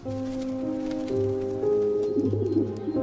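Pigeons or doves coo in Père-Lachaise cemetery in Paris as spring stirs, with soft low repeated calls up close and fluttering bird chatter rising in the last second, without talk.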